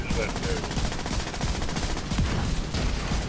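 Rapid gunfire from The Division 2 during a raid fight against a heavy enemy, a dense continuous stream of automatic shots with scattered bursts layered over game effects, loud and steady throughout.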